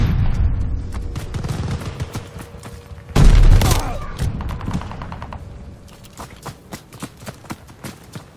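A stun grenade going off in a first-person shooter game: a burst of loud sharp blasts and crackling gunfire, with a heavy detonation near the middle, then scattered shots fading out.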